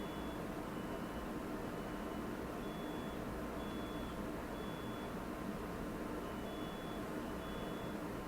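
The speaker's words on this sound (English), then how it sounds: "Do you hear this beeping?" Faint, high electronic beeps repeat at a steady interval over a constant low rumble of background noise, sounding distant and thin.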